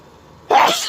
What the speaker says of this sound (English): Oh, I had to sneeze again.